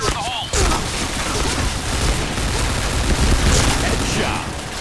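An M4A1 assault rifle fires in the Point Blank shooter game as dense, rapid bursts, loud and continuous across the moment, with a voice briefly heard at the start.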